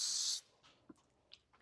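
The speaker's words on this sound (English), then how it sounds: "I'm going to spray my pan with some baking spray" Baking spray hisses from a can onto a baking pan in a single loud burst of under half a second, followed by faint clicks and small kitchen knocks.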